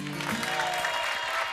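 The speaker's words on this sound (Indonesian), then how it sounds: "Tepuk tangan semua yuk." A television studio audience applauds for 1.5 seconds at a steady level, with some voices and tonal sounds from the show mixed underneath.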